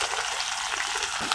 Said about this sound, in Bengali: এবার আবার একটু তেল দিয়ে পেঁয়াজ মরিচ দিয়ে দেব।